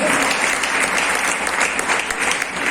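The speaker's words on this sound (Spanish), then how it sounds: "Den un fuerte aplauso al Cristo de la gloria." A church congregation applauds loudly during a sermon, with dense, sustained clapping from many people filling the room for the whole stretch.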